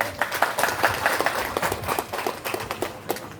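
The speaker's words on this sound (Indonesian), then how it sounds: "Tepuk tangan untuk Pak Camat." A crowd at a village community meeting in North Sumatra claps in a quick, uneven rhythm, moderately loud and close, with no talking over it.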